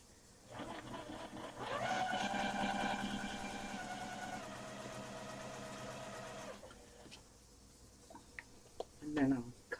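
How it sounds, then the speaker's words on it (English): A sewing machine stitches quilt block pieces, a steady motor whir running for several seconds before stopping, followed by faint handling sounds and a brief voice. "Let's sew these."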